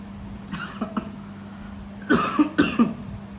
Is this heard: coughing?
yes